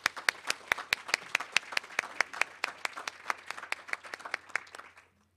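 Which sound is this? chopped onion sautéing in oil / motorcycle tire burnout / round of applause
round of applause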